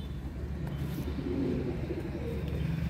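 A fancy pigeon in a loft coos softly, with low, continuous throaty murmuring that holds steady for a few seconds over faint background noise.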